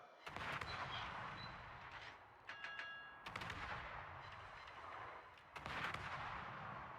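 In a naval warship video game, the ship Johann de Witt fires its guns, heavy booming salvos that strike in several loud bursts with rumbling decay and brief metallic tones between them.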